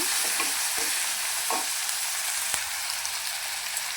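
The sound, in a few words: frying chopped onion with curry leaves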